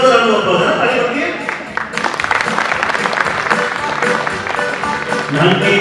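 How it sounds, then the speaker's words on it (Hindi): Applause from a school audience at a musical talk show, a broad wash of clapping that starts around two seconds in and keeps going steadily to the end, with voices mixed underneath. "एक रिजर्व राउंड ऑफ अप्लॉज है ना, ताली बजाइए"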